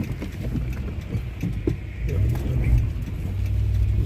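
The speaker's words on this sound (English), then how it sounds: "Spun my tires." A car pulling out on a road in heavy sleet with its tires spinning, heard as a steady, loud rush of engine and road noise that swells slightly toward the end.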